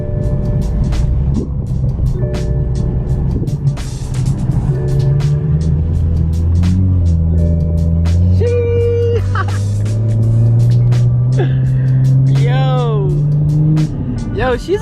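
A Toyota A90 Supra cruises through snowy streets during a blizzard, its engine a steady close drone with slowly rising and shifting tones, a voice talking over it.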